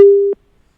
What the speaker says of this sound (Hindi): हमारा फोन डिस्कनेक्ट कर दिया है